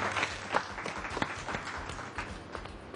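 Audience applause for a children's music group on a Romanian children's TV show, a dense burst of many hands clapping steadily throughout, fairly close and loud, with no voices over it.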